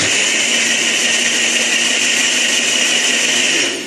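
A Nutri Ninja blender running with water screams loudly and continuously for a few seconds with a steady, harsh, high-pitched motor whine, tapering just at the end.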